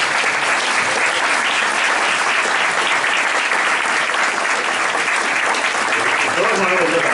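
Conference audience applauding, a steady dense clapping from a large crowd that stays evenly loud throughout, with a voice briefly audible near the end.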